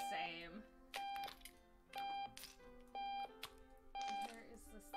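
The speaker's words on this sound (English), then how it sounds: "Turn off the alarm, or do I just have to deal with this?" A video game alarm clock beeps in rapid electronic clusters that repeat about once a second, bright and insistent, with someone talking over the noise.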